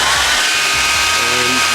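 A hair dryer blows with a steady, loud whooshing roar and a high motor whine, continuous throughout with no pauses.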